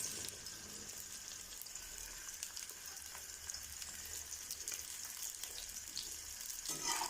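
Chopped okra fries in hot oil with a soft, continuous crackling sizzle, fairly quiet and steady throughout with faint popping.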